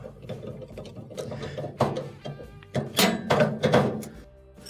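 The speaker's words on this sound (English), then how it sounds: "Let's put in the last screw." A screw being driven in by hand on a gas range pressure regulator, giving a few close, dull mechanical clicks and thunks with brief scraping, quiet and irregular, without talk.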